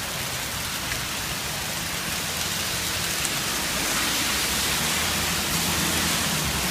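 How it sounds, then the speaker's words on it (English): Hail falls during a Mother's Day thunderstorm near Endicott in Vestal, New York, a dense, steady roar of stones pelting leaves and ground that stays loud and even throughout, with no voices. "the hail's actually accumulating here, almost covering the ground here"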